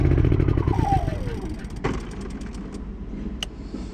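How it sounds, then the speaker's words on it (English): A Honda EU3000is inverter generator with a choke fault runs with a steady mechanical hum that drops in pitch and settles back toward idle, loud and close, with a couple of clicks partway through. "eco throttle off, revs up, eco throttle on, revs down, chokes in, shit's working."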